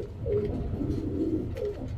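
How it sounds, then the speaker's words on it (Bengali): Silver pattern pigeons coo close by in soft, low, rolling calls, repeated two or three times in about two seconds, with no talking. "সিলভার প্যাটার্নের কবুতর।"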